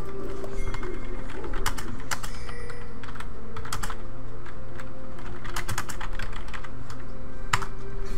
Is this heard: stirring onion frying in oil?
no